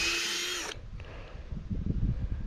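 A power drill drives a screw into a hard wooden block, giving a short, high whine that cuts off abruptly after under a second, followed by quieter knocks and handling noises.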